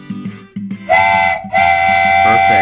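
Train whistle sound effect in a Scratch coding project, two long steady whistle blasts with a brief break between them, loud and clear, following a few short tonal notes.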